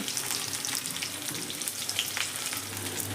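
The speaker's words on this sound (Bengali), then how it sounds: "আমি এবার এর মধ্যে কাঁচা কলাগুলোকে একটু ভেজে নেব" Raw green banana pieces frying in a pan over a medium flame, a dense close crackling sizzle with light popping throughout, no talking.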